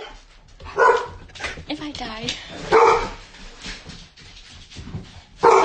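Several dogs bark at something outside a window indoors, three loud bursts of barking spaced a couple of seconds apart, with whining yips between them while someone talks close by.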